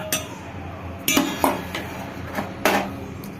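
Wheat flour and rice flour are mixed together in a bowl, giving a handful of sharp, irregular clinks and knocks against the dish over quiet background.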